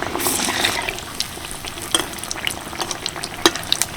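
Battered Bengali lote fish chops fry in hot oil, giving a close, steady sizzle dotted with sharp crackles and pops, with no voices over it.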